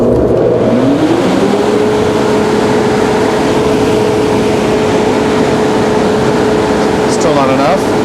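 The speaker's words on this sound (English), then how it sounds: "even with the fan running full speed, we can achieve 50 pascals" A blower door fan runs at full speed during a building air-leakage test, a steady loud motor drone and rising hum holding throughout, with faint voices in the background.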